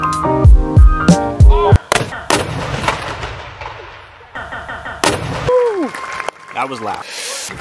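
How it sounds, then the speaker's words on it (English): A ceremonial Golden Cannon in Savannah fires with loud, sharp booming blasts that ring and echo outdoors, followed by scattered crowd noise and people talking. "I think they're getting ready to fire the Golden Cannon."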